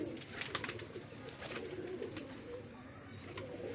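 Pigeons cooing softly near high rooftop towers, low murmuring coos over a faint hiss of outdoor background, with no talking.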